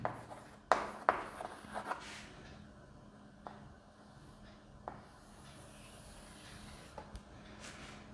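Marker or chalk writing on a board during a maths lesson: a few scratchy strokes and taps early on, then faint sparse scribbles over a low steady room hum, close and quiet, with no talk.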